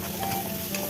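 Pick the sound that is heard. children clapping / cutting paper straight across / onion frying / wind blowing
onion frying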